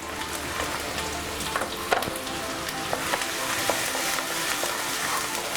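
Leftover rice sizzles in a pan after turmeric goes in for masala pulao, a steady close frying hiss broken by scraping stirs and small clicks.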